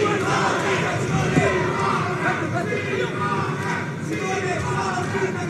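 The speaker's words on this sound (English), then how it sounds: "The crowd are absolutely loving Alessio Simone." Spectators cheer and shout at a taekwondo World Cup final between a Jordanian and an Italian fighter, a dense, steady roar of crowd voices with bursts of yelling throughout.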